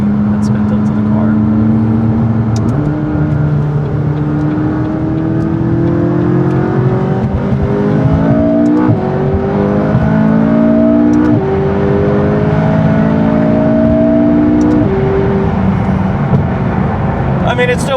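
A McLaren 570S supercar with a non-stock exhaust and no heat shields accelerates up to the speed limit, the engine note climbing steadily through several gear changes, loud and close inside the cabin.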